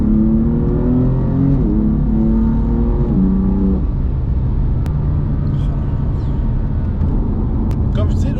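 A BMW engine revs hard on a mountain road, loud and close, its pitch climbing in stepped gear pulls before settling into a sustained roar with road rumble. People talk over it.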